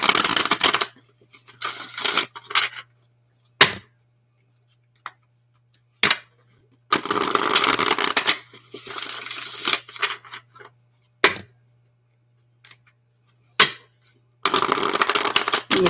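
Tarot and playing card decks, including a goddess deck and a Sun Moon Tarot, being shuffled by hand in repeated bursts of riffling and flicking, close and crisp, separated by quiet pauses and faint taps under a low steady hum.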